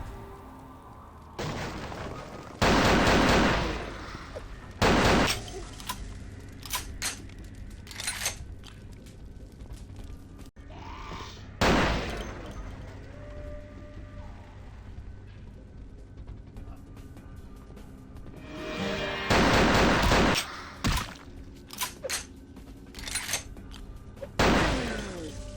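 An automatic shotgun fires in Vampire: The Masquerade – Bloodlines, loud booming blasts in clusters of two or three, separated by pauses filled with mechanical clicks and clatter of reloading.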